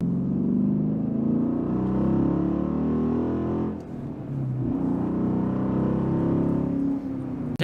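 Dodge Challenger R/T engine rumbling from inside the cabin, a deep steady drone with a brief dip in the middle as the throttle eases off, then the low growl resumes.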